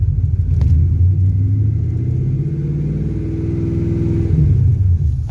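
A car engine revs up and holds a raised, rumbling drone before easing back down, close and loud with no talk over it.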